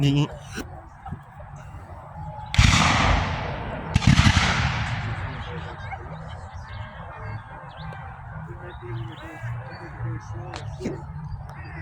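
Two loud gunfire or cannon blasts at a Civil War battle reenactment at Old Bedford Village, the second about a second and a half after the first, each with a long rolling tail over outdoor crowd noise and faint voices.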